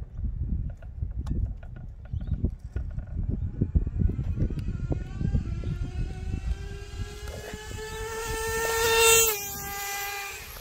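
A Traxxas 4-TEC nitro RC car engine buzzes and revs. It starts as a rough, sputtering rattle and climbs into a rising high-pitched whine as it accelerates, then peaks loudly and eases off near the end.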